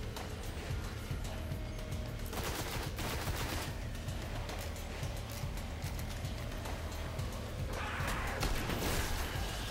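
Gunfire and combat effects from the video game Destiny, a shotgun among them, sounding as a steady dense wash of shots and action noise with no clear gaps, fairly loud throughout.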